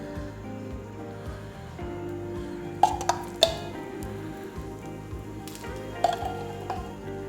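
Uttapam topped with carrot sizzles steadily in ghee on a pan, a soft continuous frying hiss with a few clinks of a utensil against the pan.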